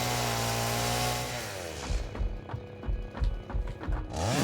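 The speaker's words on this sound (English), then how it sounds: "I would like to chainsaw this tree" Chainsaw in the factory-building video game Satisfactory runs at a high steady rev, then drops into a series of rhythmic bursts as it cuts into a tree, loud and close with no talking.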